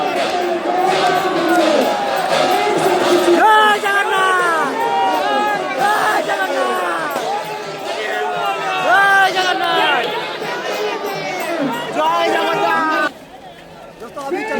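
Dense, loud crowd at the Puri Rath Yatra chariot festival in Odisha, with many voices chanting and calling out together in a continuous roar, a single devotional chant rising above it, and the noise dropping off at the very end.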